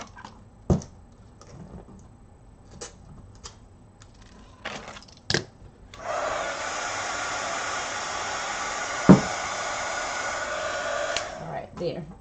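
A heat gun warming the bottom of a cut plastic flask blows with a steady, hissing whoosh for about five seconds. Before it starts there are a few sharp handling clicks and taps, and a clack sounds partway through the blowing.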